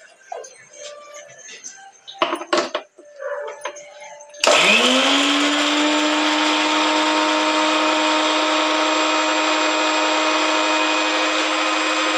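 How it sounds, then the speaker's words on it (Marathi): Electric blender grinding garlic and green chillies into paste: after a few seconds of handling clatter, the motor starts abruptly and runs loud and steady with a high whine for about eight seconds, alone. "आता आपल्याला लसूण आणि मिरची बारीक करायची आहे."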